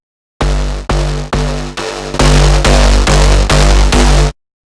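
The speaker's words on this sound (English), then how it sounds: "we want to select the wave shaper" A synthesizer bass stab pushed through wave shaper distortion hits in a rapid sequence of about eight loud, buzzy, gritty bursts, the later ones fuller and louder, with no voices.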